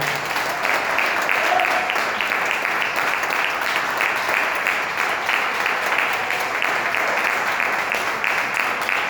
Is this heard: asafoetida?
no